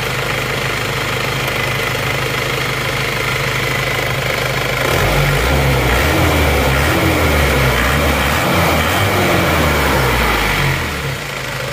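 An Isuzu Panther diesel engine, in for a tune-up because it pulls sluggishly and stalls after throttle, runs steadily at idle, loud and close, then its low rumble thickens and lifts partway through as revs rise briefly before settling.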